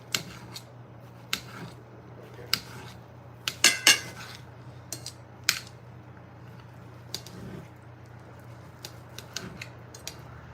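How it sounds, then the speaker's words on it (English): A knife cuts up a pork chop on a plate at home, with sharp clinks and scrapes of metal on the dish coming at irregular intervals over a steady low hum. "I'm going to cut him up a pork chop as well."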